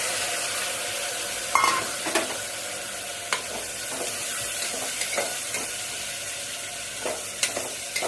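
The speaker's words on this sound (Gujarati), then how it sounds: "ટીંડોરા બટેકાનો વઘાર." Ivy gourd and potatoes hitting hot oil for tempering after mustard seeds, cumin, fenugreek and turmeric: a steady loud sizzle with occasional spoon taps and stirring clicks, close.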